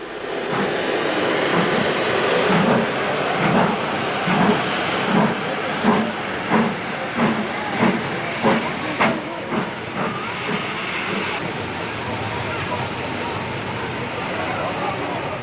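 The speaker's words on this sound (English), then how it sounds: "Taunton, one of the last mainline stations with traditional semaphore signalling, made a perfect setting for a steam departure." Great Western steam locomotive departing Taunton station, a mainline stop with semaphore signalling, giving a strong run of evenly spaced exhaust beats that quicken and then fade under constant hiss of steam.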